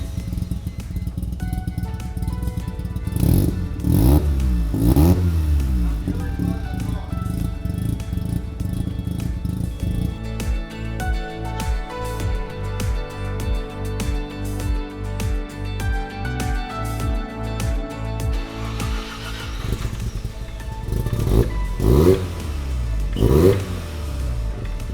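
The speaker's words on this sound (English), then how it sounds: "I am a child at heart and couldn't resist starting up the car without any catback" Mazda RX-7 FD rotary engine running without its catback exhaust, loud and close, idling then revving repeatedly in sharp rises and falls, with no talk.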